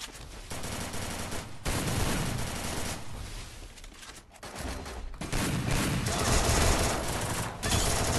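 Heavy gunfire in a ranked Counter-Strike match, dense bursts of automatic shots and rapid fusillades nearly continuous throughout, loud and close with brief gaps between volleys.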